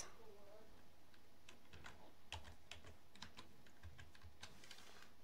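Someone types on a computer keyboard to enter a file path, a faint run of light clicking keystrokes against a quiet background, with a voice speaking softly over it.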